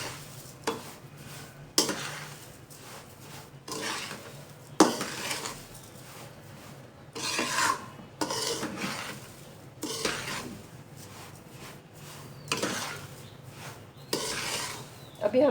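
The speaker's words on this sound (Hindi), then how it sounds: "चीनी शामिल करके इसको अच्छे से मिक्स कर लेंगे।" Semolina and sugar for halwa being stirred in a pan, with rhythmic scraping and rasping strokes of a spoon, several strong scrapes spaced a second or two apart over a low background, up close.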